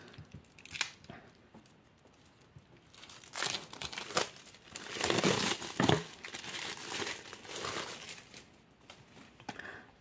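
Close crinkling and tearing of plastic film as a hardcover Year Zero Engine rulebook is unwrapped, irregular bursts of rustling and crackling with short pauses, no speech.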